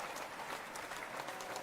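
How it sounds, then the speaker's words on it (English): Audience applause for a talk show, a short continuous burst of many hands clapping at moderate volume with no voices over it. "Oh, isn't that applause?"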